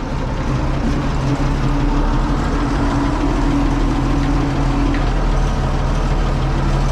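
An Ursus 1224 tractor engine runs loud and close while the tractor drives, a deep steady diesel rumble with a constant low throb and no voices over it.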